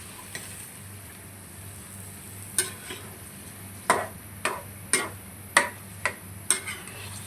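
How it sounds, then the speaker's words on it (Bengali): A spatula scrapes and taps against a frying pan while snake gourd is stirred into frying egg and onion. The taps come at irregular, fairly regular intervals over a faint background sizzle, and no one talks. "ভালো করে নেড়ে চেড়ে মিশিয়ে নিচ্ছি"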